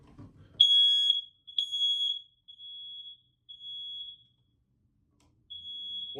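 A household smoke detector beeps loudly in a test after a battery replacement, giving several sustained high-pitched alarm tones in a broken pattern with short gaps, close by and with no talk.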